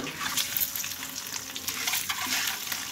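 Boiled eggs fry with turmeric in mustard oil, a close crackling sizzle broken by stirring scrapes of the spatula against the pan.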